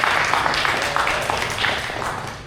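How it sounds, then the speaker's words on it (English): An audience applauds at the closing talks of a research society's winter cohort, a steady wash of many hands clapping that slowly fades toward the end. "give a round of applause for our"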